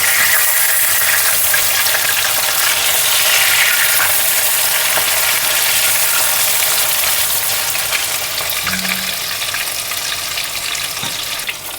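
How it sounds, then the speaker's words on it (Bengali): King fish fries in mustard oil with a loud, close, steady sizzle that eases slightly toward the end, with a faint short tone partway through. "সামান্য হালকা করে ভাজবো মাছটা অনেক নরম আছে বেশি ভাজলে শক্ত হয়ে যাবে"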